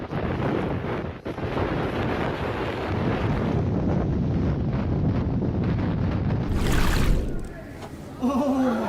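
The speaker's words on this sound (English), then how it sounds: "A severe snowstorm attacked Keflavik, Iceland on February 11th, with wind gusts reaching over 100 kilometers per hour." Violent snowstorm wind gusts of over 100 km/h in Keflavik, Iceland, roaring steadily as loud, close buffeting against the microphone, with a brief surge and a short voice near the end.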